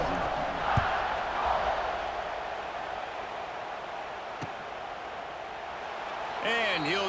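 A stadium crowd in the College Football 26 game hums with a steady, broad murmur after a score, with a few faint thumps and a swelling wavering cheer near the end.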